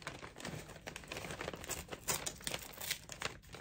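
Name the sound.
opening a mail envelope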